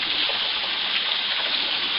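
Water of a stream flowing steadily near a waterfall and footbridge, a continuous broad rushing wash that stays loud and even throughout with no voices.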